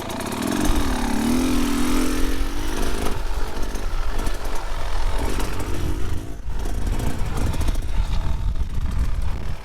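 A Beta 2024 Xtrainer 300 trail motorcycle rides a single-track trail, its two-stroke engine revving up and then droning steadily and loudly throughout, with rough broadband riding noise and no clear talk.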